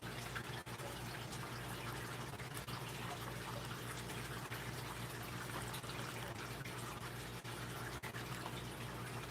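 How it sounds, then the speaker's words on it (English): Hot water poured steadily from a kettle into a glass French press for coffee, a continuous close gushing and filling sound that runs unbroken and even throughout, with no talking. "Add the hot water."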